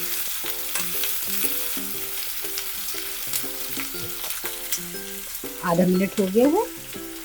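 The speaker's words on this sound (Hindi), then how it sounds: "अब हम इसमें ये कैप्सिकम ऐड करेंगे। मीडियम आंच पर ही आधा मिनट तक भूनेंगे।" Onion and capsicum being sautéed in a pan over medium heat give a steady close sizzle with repeated stirring scrapes, growing louder and busier near the end, while a person speaks briefly.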